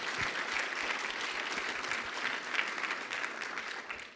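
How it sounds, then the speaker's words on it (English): An indoor audience at a talk applauds its sponsors: dense, steady clapping from a roomful of people that holds evenly for a few seconds. "so we'll just clap for them right now."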